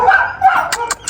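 Rocky, a small puppy, gives a few quick, light yips close by. The yips come in short bursts over soft background noise.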